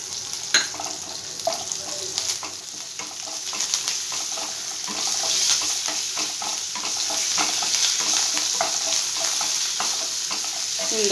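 Curry leaves sizzle and crackle in hot oil in a pan while being stirred for semiya upma, a steady frying hiss broken by scraping spoon clicks.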